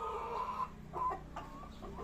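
A four-month-old hen clucks a few times, soft and fairly close, in brief uneven bursts over a quiet low hum.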